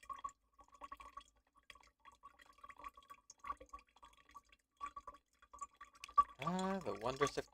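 Water dripping and trickling while a container is refilled, a quiet, irregular patter of close drops, with a voice starting to talk near the end.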